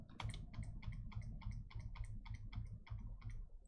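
Steady run of crisp keystrokes on a computer keyboard, about a dozen evenly paced clicks close to the mic, with a low hum underneath and no talking.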